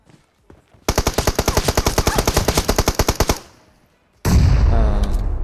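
Long rapid burst of automatic gunfire from an enemy in the mobile shooter game PUBG Mobile, loud and evenly paced, followed by a short lull and then a denser, noisier blast of combat sound.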